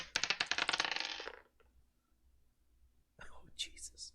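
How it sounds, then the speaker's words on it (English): A single die tumbles loudly across a tabletop in a clattering burst of rapid impacts that settles after about a second, followed by a quiet pause and then faint voices murmuring. "the obligatory sage must roll one dice really loudly per session."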